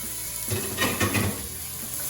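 Celery pieces stirred in a hot soup pot, a steady close sizzle with a few scraping stirs in the middle.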